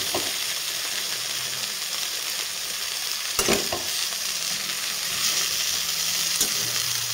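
Brinjal slices frying in a little oil in a pan give a steady, close sizzling hiss throughout, broken by a few brief clicks as the pieces are turned.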